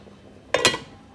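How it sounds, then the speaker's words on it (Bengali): A lid clanks down onto a cooking pot of chicken biryani: one short, bright metallic clink with a quick ringing tail, close by, in an otherwise quiet kitchen. "লিড দিয়ে ঢেকে দেখতেই পাচ্ছেন ভিউয়ার্স আমি এখন লিড দিয়ে"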